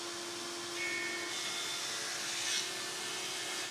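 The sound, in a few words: wood thicknesser planing oak boards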